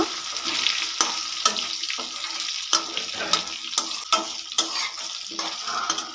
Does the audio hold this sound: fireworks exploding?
no